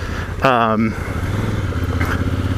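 A Honda Africa Twin motorcycle rides off-road up a slope, its engine a steady close throb with a brief rising rev near the start, while someone talks over it.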